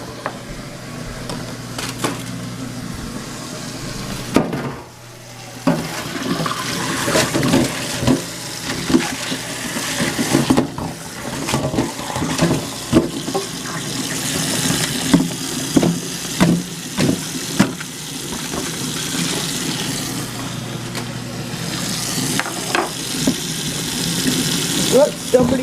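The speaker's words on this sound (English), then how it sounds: "Get some cold water going on here." Cold water runs steadily from a kitchen tap and splashes with a broad rushing hiss that swells and dips over about half a minute. Occasional clatter and handling noises break in.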